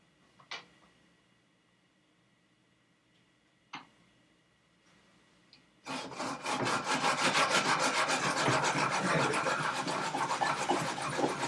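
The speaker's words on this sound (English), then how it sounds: "Now we're just about halfway down with sawing that stock off." A dull hand saw cuts through wooden stock for a custom BB gun part, with a few isolated knocks first, then steady rhythmic rasping strokes close up for the second half.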